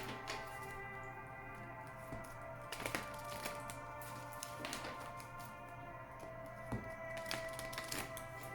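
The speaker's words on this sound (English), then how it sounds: "I shuffle the cards" Oracle cards being shuffled by hand at close range, soft irregular riffling taps and flicks over a steady low hum, a few sharper snaps standing out.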